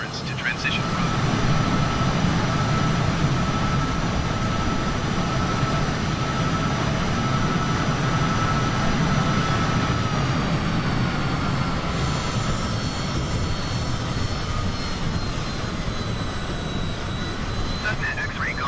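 Cessna light aircraft engine drones steadily and loudly in Flight Simulator 2020, a continuous propeller roar throughout.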